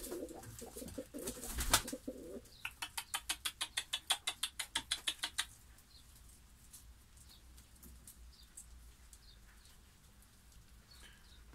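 Tumbler pigeons coo softly at a distance, and a quick run of rhythmic wing claps flutters partway through.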